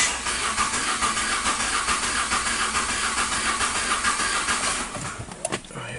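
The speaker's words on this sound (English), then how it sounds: "we're gonna crank the vehicle again" A car engine with a cylinder misfire and valve problems is cranked, giving a continuous close rough hissing roar that holds steady and then tapers with a few irregular bursts near the end.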